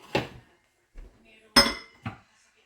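A lid set onto a pot of simmering kare-kare, with a few separate metallic clanks and clatters, close and sharp with quiet gaps between them and a brief voice at the start.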